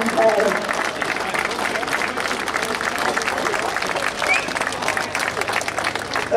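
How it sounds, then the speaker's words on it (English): A crowd at a campaign meeting about the Orgreave miners' clash with police gives loud, sustained applause, with dense clapping and some voices mixed in throughout. "Can we just give another massive clap for Kate and Chris"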